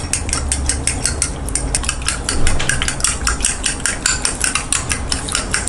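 A spoon briskly beats raw egg with mutton curry gravy, pepper and chili powder in a bowl, a steady run of quick, clinking strokes, close and fairly loud, with no voices.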